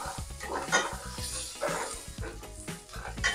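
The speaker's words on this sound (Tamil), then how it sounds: "இஞ்சி, வெள்ளைப்பூடு, பச்சை மிளகாய், கருவேப்பிலை எல்லாத்தையும் நல்லா வதக்கிக்கிடுவோம்." Ginger, garlic, green chilli and curry leaves sautéing in a pan for a restaurant-style mutton gravy, with a busy sizzle, utensil clinks and scraping stirs close by, no talk.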